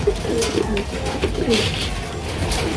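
Racing pigeons cooing close by, several soft repeated low coos over a faint background rustle, with no speech.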